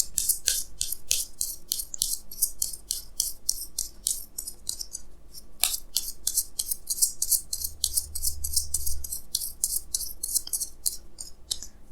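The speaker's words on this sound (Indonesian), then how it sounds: "Di sini saya akan tarik lagi 2 kartu tambahan ya." Tarot cards are shuffled and drawn close by, giving rapid crisp snaps and ticks in irregular bursts with short pauses between them. No voices.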